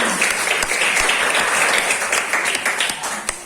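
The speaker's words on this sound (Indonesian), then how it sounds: "kita beri aplaus untuk kelompok 3" Classroom audience claps for a presenting student group during a teacher training session, steady dense applause filling the whole stretch at moderate loudness.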